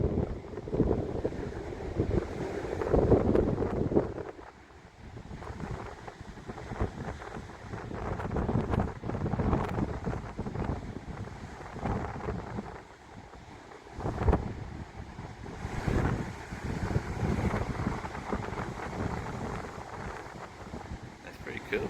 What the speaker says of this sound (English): Oh, listen to the wind.